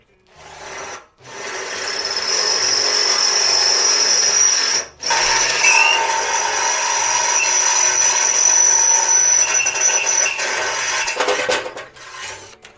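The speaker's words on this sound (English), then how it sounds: "So I'm only going to drill into the crash bar." A power drill whines close up as it bores into the metal crash bar of a Mazda MX-5 NC, in long sustained runs with two brief pauses, a grinding, scraping edge to the motor noise.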